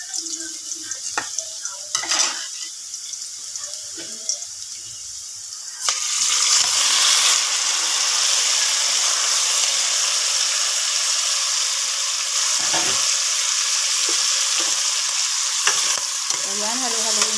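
Beef chunks for a Filipino kalderetang baka hit hot oil with a loud, steady sizzle, broken by the scrape and clatter of a utensil stirring in the pot; the frying swells sharply partway through and holds close and continuous.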